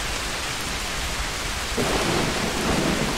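Steady heavy rain hisses across a video game scene while a low roll of thunder swells in midway, no voices present.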